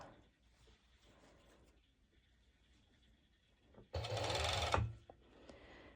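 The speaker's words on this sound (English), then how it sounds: "And just simply stitching all along." A sewing machine stitches along the edge of a crop top in one loud burst of about a second, with quiet handling sounds before and after.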